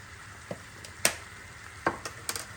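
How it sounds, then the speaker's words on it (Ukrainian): Butter melting with dried garlic and spices in a pan, heard as a soft sizzling bed broken by a few sharp spoon scrapes and clinks spaced across the clip, fairly quiet and without talk. "Зараз це все перемішуємо, щоб розтаяло гарно наше вершкове масло"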